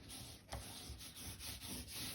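Soft, steady rubbing strokes repeat as a paper fold is smoothed flat by hand during bookbinding, faint and close with a dry papery texture.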